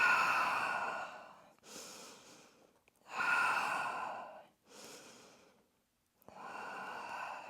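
Slow, deep breaths taken during a gentle Pilates stretch, with three long airy inhale-exhale cycles separated by short pauses, close and clear with no talking.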